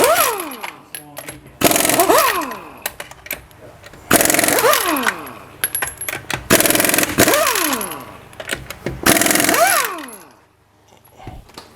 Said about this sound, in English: Gonna take off the wheel with a 21mm socket and our impact gun